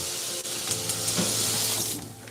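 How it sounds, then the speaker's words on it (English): Ginger tea boiling in a pot, a continuous loud bubbling and hissing roil close by with no talk over it. "the ginger tea is nice and boiling."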